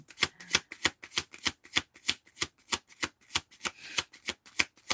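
Tarot cards are riffle-shuffled in quick, crisp bursts, about three or four sharp papery flutters per second, close and clear with no voices.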